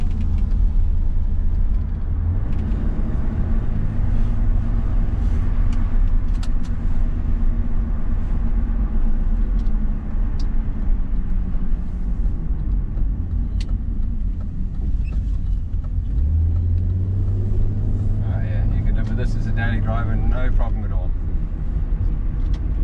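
A BMW with an M52 engine and individual throttle bodies is driven, giving a steady, close engine drone that rises and falls smoothly in pitch with the throttle throughout.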